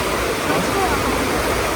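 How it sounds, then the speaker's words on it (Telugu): Glencar waterfall, a dense, steady roar of falling water heard close by, with no break. "సో ఇదే మన గ్లెన్సర్ వాటర్ ఫాల్."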